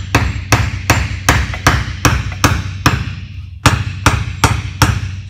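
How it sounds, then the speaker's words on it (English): A hammer strikes bolts into a fitting in a steady rhythm of about a dozen loud, close metallic blows, with one brief pause midway and no talking. "Okay, this is where you hammer."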